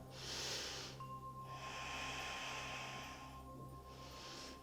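Slow, steady breathing while holding a yoga pose, soft airy breaths in three long swells, close and quiet, with no talk.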